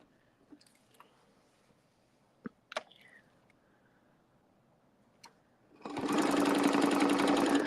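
A sewing machine stitching a red, white and blue quilt starts up after a few soft handling clicks and runs steadily and loudly in a fast, even whir to the end; no talking.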